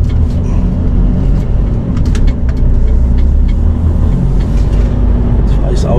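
A car is driven with a steady, loud, low engine drone and road rumble heard from inside the cabin. Faint clicks and rattles sit on top of the drone.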